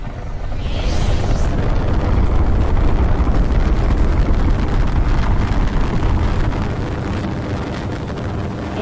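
A missile launch in the Fortnite video game roars as a loud, sustained rumbling blast, swelling after the first second and holding steady before easing slightly at the end.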